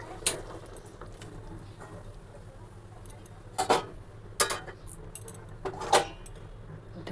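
A metal lid is set on a kadai of potato curry: a few sharp clinks and clatters spread over several seconds against a quiet room background.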